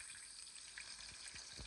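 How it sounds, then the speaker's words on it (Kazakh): Onions sizzle steadily in oil in a frying pan, a faint, continuous crackling hiss with no talking. "Piyazı жақсылап қуырамыз."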